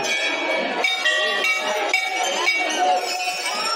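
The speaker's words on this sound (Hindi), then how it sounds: "अभी आइए घंटी का मजा लेते हैं।" A metal temple bell is struck loudly over and over at a quick, steady pace, and each ringing tone overlaps the next.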